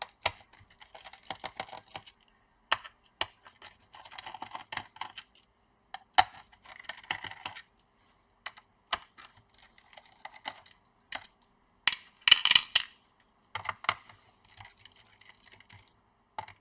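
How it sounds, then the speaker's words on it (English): Small screws are taken out of a laptop case one after another, giving sparse, quiet clicks and scrapes with short metallic rattles and pauses between them, in a quiet room with no talking. "we have to remove the screws in order to remove the plastic"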